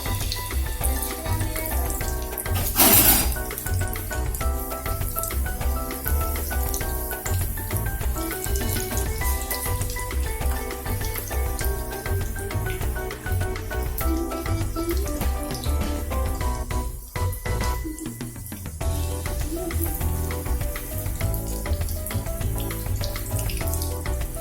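A kitchen water tap runs steadily into a sink while fish is rinsed beneath it, a loud close splashing stream that continues throughout with a brief heavier burst.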